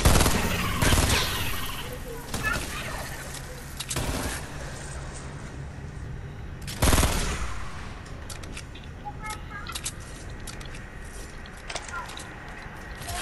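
Gunfire bursts in the video game Fortnite, several loud sharp volleys at irregular intervals with quieter scattered shots between, mixed with game noise and background voices.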